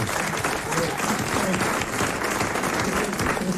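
Television studio audience applause, a dense even patter of many hands clapping at moderate loudness throughout, with a voice faintly present beneath.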